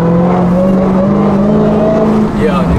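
A Dodge Hellcat revs loudly and close with a steady high-pitched supercharger whine over the engine roar at a car meet, with people talking over it.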